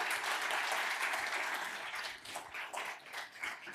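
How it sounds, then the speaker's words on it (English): Lecture hall audience at a memorial lecture on electronics and nanotechnology applauds, a dense, loud wash of clapping that holds steady for a few seconds before thinning slightly toward the end. "Let's give him a big round of applause"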